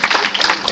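An audience breaks into a short burst of dense, loud applause, a steady wash of clapping.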